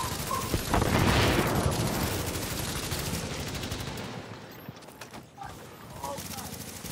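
Shotgun fire in the video game The Division comes as a dense, loud burst of gunfire and clatter at the start and fades over several seconds. Excited players talk over it.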